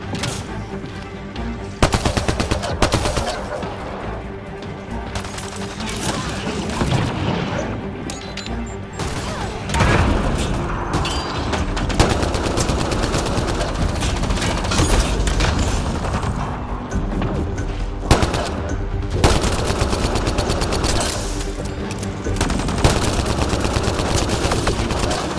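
Sustained gunfire in the video game Mass Effect Andromeda, with rapid automatic bursts and heavy single shots layered over booming combat noise, loud and close throughout with brief pauses between volleys.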